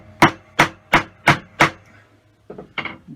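A mallet strikes a chisel held vertically while cutting, giving five loud, evenly spaced, sharp blows close by, followed by a few lighter, quicker taps.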